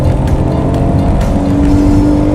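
A Smart car engine revs hard uphill in second gear with an aftermarket exhaust, a loud, continuous drone whose pitch climbs steadily toward redline, filling the whole stretch without a break.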